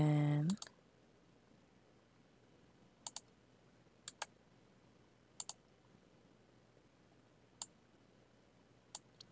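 Keys tap on a computer keyboard while text is entered in Microsoft Word. A few sharp clicks, single or in pairs, come at irregular gaps over a quiet room hum, after a brief opening tone.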